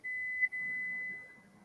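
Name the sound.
oven alarm whistling downstairs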